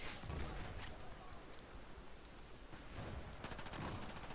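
Bursts of automatic gunfire from a weapon in Battlefield 4 rattle out in quick runs, a rapid volley near the start and another near the end, with voices murmuring faintly underneath.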